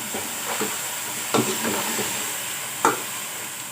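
Cauliflower paratha filling stirred in a pan over a constant sizzle and hiss, with a few sharp scrapes and taps of the spoon against the metal, close and clear.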